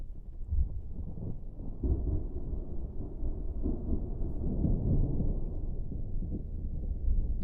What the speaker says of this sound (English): It's definitely really thundering.